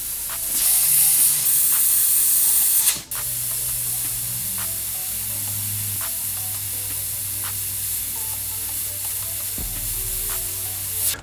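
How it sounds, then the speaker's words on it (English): Airbrush spraying pink alcohol ink in a loud, close hiss that cuts off sharply after a few seconds, followed by a softer steady airy hiss with faint clicks. "I got pink in the airbrush already from our test panel."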